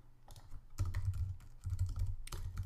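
Code comments being typed on a computer keyboard: a quick, close run of soft key clicks and taps with small gaps, alone without any voice.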